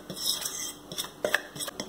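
A spoon scrapes and clinks against a bowl while mixing curry powder and turmeric into Jamaican beef patty filling, with soft intermittent taps and stirring sounds, close and fairly quiet.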